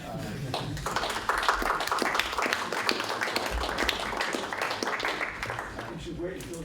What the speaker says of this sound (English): You can clap if you want, I guess.